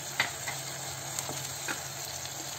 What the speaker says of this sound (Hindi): अदरक लहसुन paste one one tea spoon